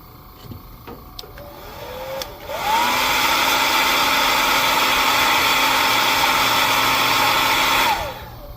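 A hot air tool blows on painted swimbaits to heat-set the paint, starting after a few quiet clicks, holding a steady whirring roar for about five seconds, then winding down.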